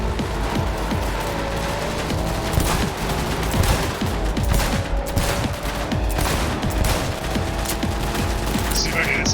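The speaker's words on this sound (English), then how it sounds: "As the passenger, drawing your weapon allows you to lean out the window and use your entire arsenal of equipped ranged weapons." Rapid gunfire in the video game Cyberpunk 2077, fired by a passenger leaning out of a moving car's window, comes as dense bursts and booms with mechanical clatter over constant engine and road noise.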